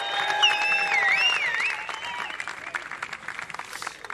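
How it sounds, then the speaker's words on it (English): Crowd applause and cheering at a surf competition event in Portugal, with whistles and shouts over clapping that thins out toward the end. "Why don't you guys give yourselves a round of applause for being an amazing crowd?"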